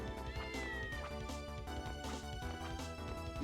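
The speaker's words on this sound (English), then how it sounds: "Yeah, I can hear a cat." Cat meows from a Castlevania: Order of Ecclesia game on Nintendo DS, heard over continuous loud game music with a steady melodic backdrop throughout.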